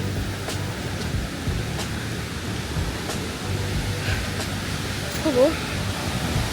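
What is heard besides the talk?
waterfall cascades near a river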